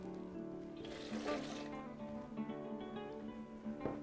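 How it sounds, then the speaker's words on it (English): Coconut water poured into a blender already holding pears for a breakfast smoothie, a soft, steady liquid trickle heard close by over faint background tones. "Now we're going to go and add 1 cup of coconut water."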